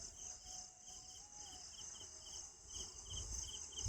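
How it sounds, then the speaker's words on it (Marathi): Crickets chirr steadily in a jungle at night, a dense, continuous high-pitched trill with a pulsing shimmer, moderately close, with faint low rumbles from the dark campsite underneath and no talking. "किर्र आवाज येतोय नुसता."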